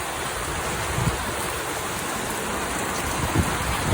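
Steady rain falls on plants, a dense, even hiss of drops close by with a few slightly louder splashes, no voices.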